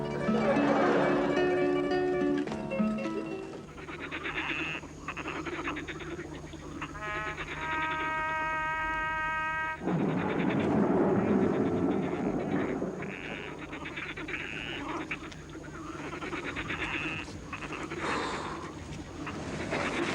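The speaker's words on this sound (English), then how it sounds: "The frogs are restless tonight" Dense chorus of croaking and chirping night creatures, steady and layered throughout, with tonal calls and buzzing rising and falling in the background.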